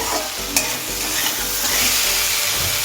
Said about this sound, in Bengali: আমি ঢাকনাটা খুলছি আর একবার নেড়ে দেব